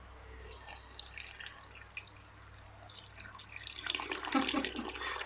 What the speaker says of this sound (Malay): Jom kita test spray air.